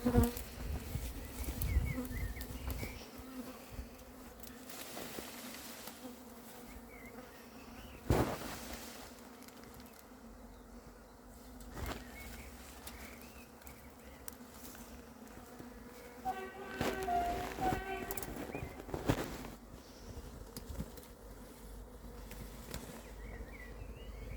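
A couple of agitated honeybees circle close during a swarm capture at Varennes-sur-Seine, giving thin, wavering buzzes that swell and fade as they fly past, over quiet outdoor background with a few sharp knocks.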